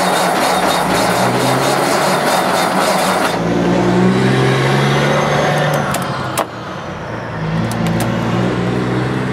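A Thunderbird car engine that has been flooded by running the fuel pump, revving loudly with a rough roar that drops back to a lower, steadier idle, punctuated by a few sharp clicks.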